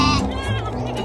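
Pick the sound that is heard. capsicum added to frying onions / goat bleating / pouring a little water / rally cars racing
goat bleating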